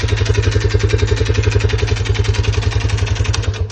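A Lifan CityR 175 motorcycle with a 162FMK engine idles with a steady, rapid mechanical knock, a close, loud and even clatter throughout with no voices.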